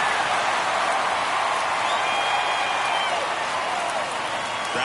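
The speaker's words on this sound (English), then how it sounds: "Crowd locked in right now." Stadium crowd in the baseball game MLB The Show 24 during a ninth-inning playoff game, a loud, steady wash of cheering and roar that holds evenly throughout.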